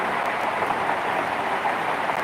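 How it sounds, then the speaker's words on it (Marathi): Heavy rain roars in a constant wash of hiss, with a few faint tapping drops standing out. Nobody speaks. "बघितलं किती आवाज येतो पावसाचा"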